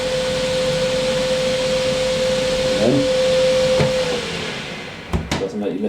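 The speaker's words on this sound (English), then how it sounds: "It's probably the quietest spin dryer I've got." A Zanussi SD 2811W spin dryer runs with a steady whirring hum and a constant whine, then winds down and stops, followed by a few clunks near the end.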